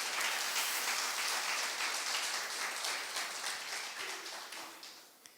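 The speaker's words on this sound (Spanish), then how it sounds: "Denle un aplauso fuerte al Señor." A church congregation applauds steadily, a dense wash of clapping that holds for several seconds and slowly fades out.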